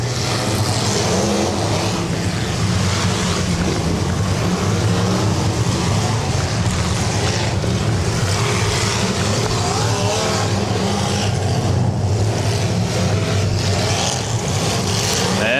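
Demolition derby cars roar around a dirt track during a heat, several engines droning and revving together, loud and continuous for about fifteen seconds with no gaps.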